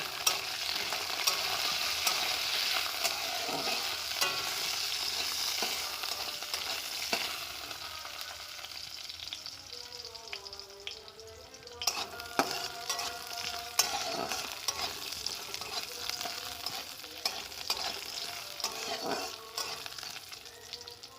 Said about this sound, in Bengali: তেল দিয়ে আমি বড়িগুলো ভালো করে ভেজে নেব